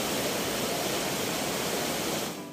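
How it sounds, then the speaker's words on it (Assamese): River water rushing and gurgling in a dense, unbroken roar close by, easing off slightly right at the end. "ঝৰঝৰকৈ বোৱা জলমালাৰ কলকলনি"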